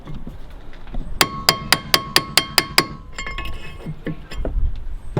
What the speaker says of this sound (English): Let's just continue to hammer this in and out